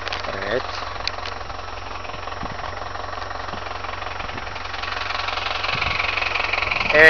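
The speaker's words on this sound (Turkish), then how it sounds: "Daha doğrusu mısırların etrafındaki otları traktörle temizliyor." A tractor engine runs steadily while clearing weeds around corn plants in a large field, with a continuous mid-pitched chugging drone that grows slightly louder toward the end.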